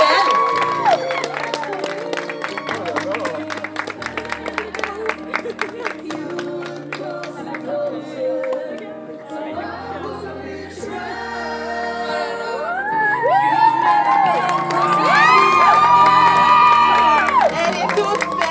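Wedding guests cheering, whooping and clapping for the bride's entrance, a lively crowd roar with shouts and applause that grows louder over time, while music plays beneath and voices call out.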